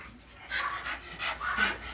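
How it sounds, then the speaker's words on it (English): Guard dog panting in quick, breathy bursts close by, several rapid pulses rising and falling over a couple of seconds with a faint whine, no talk over it. "Siya talaga guard dog."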